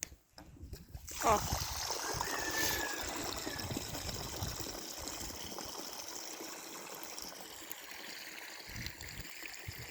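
Steady flowing water runs throughout, a continuous trickling wash close by, with a brief louder splash near the start.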